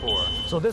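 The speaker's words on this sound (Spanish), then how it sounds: "Y cuando alcanza un nivel peligroso, suena la alarma." A portable four-gas detector used in underground sewer tunnels sounds a short, loud electronic beep alarm, with a steady high tone and brief pulsing bleeps over less than a second.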